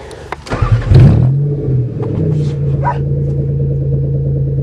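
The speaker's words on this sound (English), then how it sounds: "What you do is you slowly release the clutch, give it some gas" A manual Toyota car engine starts with a rough turnover, then settles into a steady, close idle hum. A brief faint rev comes near the end, and no one talks.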